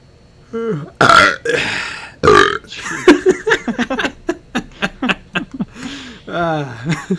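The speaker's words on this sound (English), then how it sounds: "I wish we wouldn't burp like pigs." A long, loud, drawn-out burp followed by a second deep belch, then a stretch of rapid hiccup-like bursts and another croaking burp near the end.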